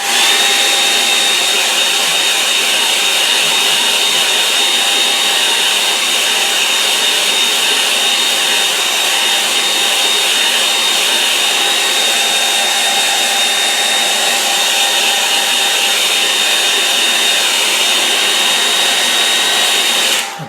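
A hair dryer blows steadily and loudly on watercolour paint, a constant close whirring roar with a faint high whine that runs unbroken for the whole stretch with no talk.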